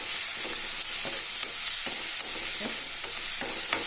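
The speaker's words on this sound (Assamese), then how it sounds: "এতিয়া মই অকণমান ভাজিব লাগিব, তেতিয়াহে বস্তুটো খাবলৈ ভাল হয়।" Fish frying in a pan: a steady, dense sizzle with hissing crackle throughout, punctuated by occasional soft scrapes and stirs, close by with no talking.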